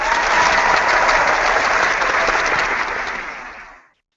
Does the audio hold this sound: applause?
yes